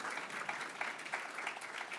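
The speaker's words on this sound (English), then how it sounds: "So give a round of applause to the team from Alvernia here." An audience applauding at a leadership event, a steady wash of clapping from a mid-sized crowd, moderately distant and fairly faint, with no talking over it.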